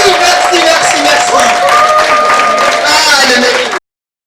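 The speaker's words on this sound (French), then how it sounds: "On va se lever et on va applaudir cette grande dame." Loud, sustained applause and cheering from a standing audience at a seminar on rheumatic diseases, a dense wash of clapping with a high tone running through it, ending abruptly.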